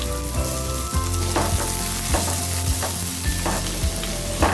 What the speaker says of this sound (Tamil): ஒரு கடாயில் தேவையான அளவுக்கு எண்ணெய் விட்டுட்டு பொடி பொடியாக நறுக்கி எடுத்து வச்சுருக்கிற வெங்காயம் சேர்த்துக்கலாம்.